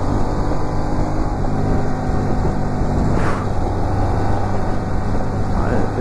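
Unmuffled motorcycle engine running with no exhaust silencer, a loud, steady, raw drone that fills the whole stretch, heard close up on the move with wind rush.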